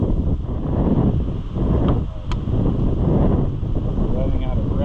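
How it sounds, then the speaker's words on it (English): Strong outdoor wind buffeting a microphone beside an old Oliver 1365 tractor, a continuous heavy low rumble with gusty surges and a brief lull, loud throughout with faint distant sounds beneath. "It's also super windy, so I hope you can hear"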